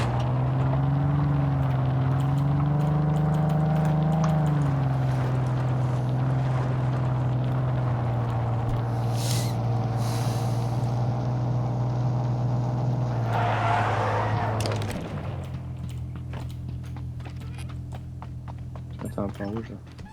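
Car engine in the video game Ring of Elysium, a steady loud droning hum with a shift in pitch, continuing at a lower level near the end, with wind-like noise and players talking over it.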